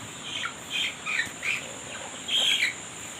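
Free-range native chickens calling outdoors, with a handful of short squawking clucks spaced irregularly across a few seconds, moderately close over a steady background hiss.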